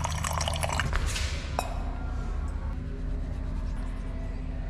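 Water being applied to a household floor to soften and lift stuck paint, a close wet splashing and dripping wash with a few sharper watery clicks, steady throughout with no voice.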